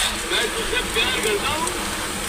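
Cumin seeds fry in hot oil with bay leaf and dried chilli, giving a dense crackling sizzle that stays close and steady.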